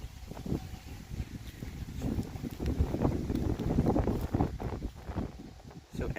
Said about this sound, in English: Oh, it just got windy.